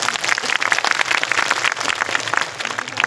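An audience at a Thakor community meeting claps in a dense, lively burst of many hands, loud and sustained, with no speech over it.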